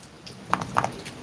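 Rain falls outdoors in faint, scattered patters: a few distinct drops tap close by over a soft, steady background hiss, with no talking.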